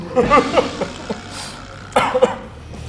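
Sneeze-like bursts from a person seated during a Thai speed-eating challenge with a 6.5 kg burger, two short sharp explosive bursts about two seconds apart, close and fairly loud with background murmur.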